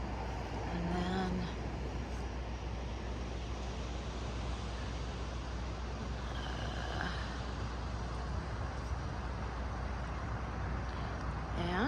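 A car driving through Montana, with steady low road and wind noise from inside the vehicle holding constant throughout, faint and even, with a voice speaking briefly near the start.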